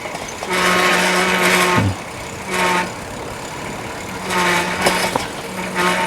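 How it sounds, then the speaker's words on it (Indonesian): Vehicle brakes squeal loudly in a rural Japanese village: steady high-pitched screeches recur in long bursts under broadband road rumble, close by, with no talk. "Remnya berisik lur,"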